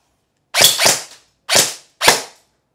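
Four sharp airsoft gun shots, toy replica of a John Wick pistol fired outdoors: two in quick succession, then two more spaced apart, each a crisp snap with a short decaying tail, loud and close with no talk.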